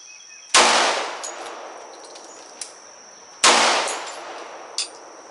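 Two sharp, loud gunshots from a 10mm Hi-Point pistol about three seconds apart, each with a ringing tail and a faint metallic ping after, over a steady high whine.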